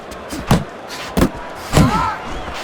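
Punches land in the Fight Night Champion boxing game, three sharp thudding impacts spaced about half a second apart, with a faint crowd murmur underneath.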